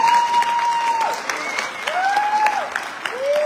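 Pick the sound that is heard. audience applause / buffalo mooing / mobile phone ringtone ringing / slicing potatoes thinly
audience applause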